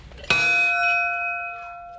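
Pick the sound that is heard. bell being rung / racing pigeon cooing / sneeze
bell being rung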